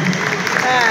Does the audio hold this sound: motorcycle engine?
no